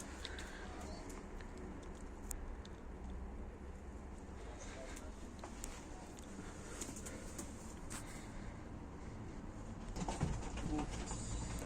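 Pigeons coo softly in a loft, low and somewhat distant under steady background noise and a voice talking, with occasional wing flutters and small knocks.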